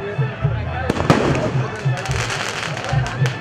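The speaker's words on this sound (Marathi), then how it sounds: "जरा या फटाके लावताना काळजी घ्या." Firecrackers go off at a Dahi Handi festival celebration, a few sharp cracks and pops standing out over crowd noise and talk, with rhythmic drumming running underneath.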